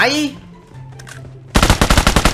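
A new gun fires in PUBG Mobile, a short rapid burst of about eight loud, punchy shots in quick succession after a brief quiet lead-in with a faint voice and game tones.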